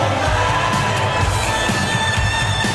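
A wrestling crowd in Staten Island cheers and roars loudly and steadily, a dense wash of shouting voices rising and swelling throughout.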